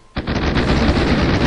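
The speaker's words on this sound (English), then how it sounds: "I can use my side fire guns" Side fire guns on a ship in the video game Airship Pirates World firing on an unarmored merchantman, a loud, dense burst of rapid gunfire that starts abruptly and rattles on without a break.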